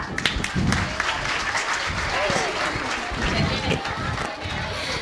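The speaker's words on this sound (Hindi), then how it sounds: "तो नेताजी के लिए जोरदार तालियां" An audience at a school annual function and prize distribution breaks into loud, dense applause, with many hands clapping together continuously throughout.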